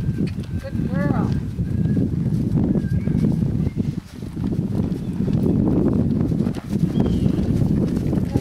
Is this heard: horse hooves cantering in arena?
yes